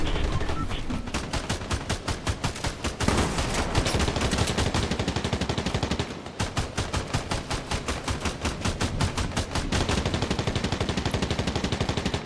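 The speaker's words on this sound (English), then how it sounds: "Lots of gunfire around." Rapid, dense bursts of automatic gunfire from a Fortnite match at a collegiate esports tournament, continuous and loud, with overlapping shots and brief lulls.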